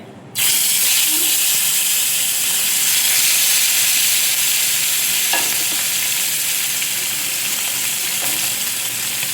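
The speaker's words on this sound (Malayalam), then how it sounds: "എണ്ണ ചൂടായി നമുക്ക് ഈ കാല് പെറുക്കിയിടാവേ" Chicken legs fry in hot oil with a loud, sustained, close hiss that bursts in at the start and holds steady throughout, a couple of faint knocks beneath, no voices.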